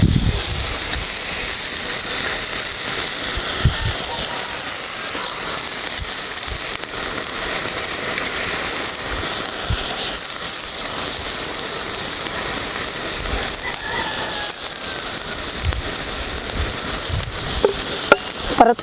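Moong dal hits a hot pan with garlic and fenugreek leaves and sizzles loudly and steadily, a dense close hiss of frying with occasional stirring scrapes. No talking.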